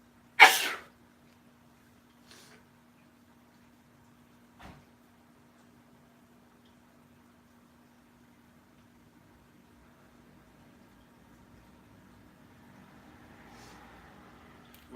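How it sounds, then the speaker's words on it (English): A single sharp sneeze bursts out at the start, followed by long near-silence with a faint hum and a couple of soft knocks. "somebody sneezes"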